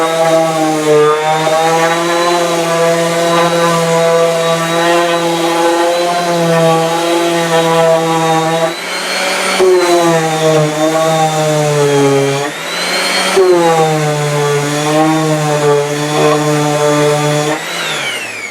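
A power sander works over cherry wood spice boxes, a loud steady high whine held close for a long stretch, briefly dipping and shifting pitch as the tool moves and pressure changes, with no talking.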